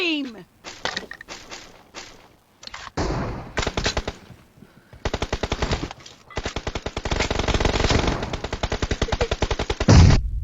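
Gunfire in a shooter video game: rapid automatic bursts of shots, loud and close, separated by short pauses, with a long sustained volley near the end and a voice shouting over it.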